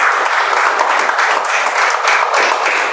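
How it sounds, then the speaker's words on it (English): A Toastmasters meeting audience gives a round of applause for a first-time speaker, dense, loud clapping filling the whole stretch without a break. "So we let everybody give a good round of applause to her."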